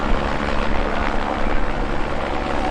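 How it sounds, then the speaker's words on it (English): Steady rotor and engine drone of a helicopter passing close overhead at a pipeline protest, loud and continuous with no voices. "Is that a Department of Homeland Security helicopter?"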